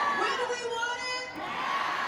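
Crowd of Missouri voters at a reproductive-rights ballot rally, many voices shouting and chanting together at moderate distance, with cheering swells.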